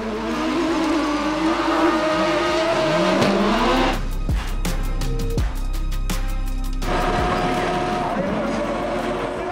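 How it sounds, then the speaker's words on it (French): FIA European Autocross Championship cars at Saint Georges de Montaigu roar off the line and charge three abreast into the first corner, with loud revving engines, tire squeal and a commentator talking over the racing. "La première ligne démarre fort et les pilotes arrivent à 3 de front au premier virage."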